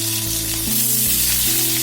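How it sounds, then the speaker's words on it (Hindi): Ajwain seeds and green chillies frying in a little hot oil, a loud, steady sizzle with a constant crackle running through the short stretch, close up and with no voices. "ये मैंने लिटिल बिट थोड़ा सा तेल लिया है और इतनी मैं इसमें अजवाइन डाल दूंगी। साथ ही हरी मिर्च डाल दूंगी"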